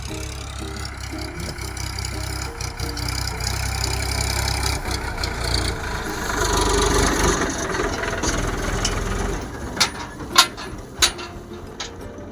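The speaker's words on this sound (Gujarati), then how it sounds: "મિત્ર અમારું ટ્રેક્ટર આવે છે" A tractor engine rumbles steadily, growing somewhat louder as it nears, with a few sharp clanks toward the end.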